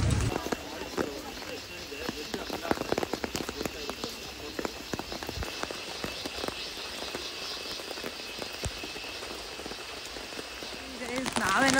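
Steady rain pours at Abbey Falls in Coorg, a dense, even hiss of drops pattering on surfaces with scattered sharper taps throughout, fairly close and continuous from start to finish.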